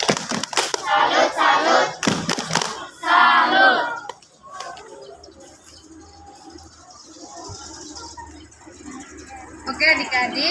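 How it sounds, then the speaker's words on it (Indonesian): A group of children chanting a salute cheer in Indonesian in unison with rhythmic bursts of clapping, loud and close, followed by quieter murmuring and a final burst. "Tepuk salut untuk adik Fabian."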